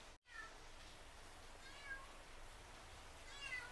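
A cat meows softly several times, the calls faint and close against a quiet hissing background.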